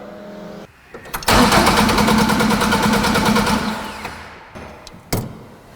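A custom Mk2 Ford Escort engine cranks for a few seconds with a rapid churning whir, then stops without catching; a couple of clicks follow.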